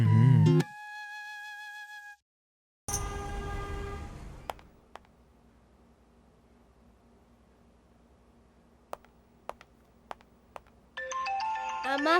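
A mobile phone ringtone plays a brief melodic tone in a Kannada film scene, then stops; after a quiet stretch with a few clicks, the ringtone resumes loudly near the end.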